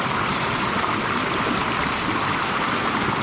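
Water pours from two large springs in a virgin forest, a loud, steady broadband rush with no letup, close by and with no voices over it.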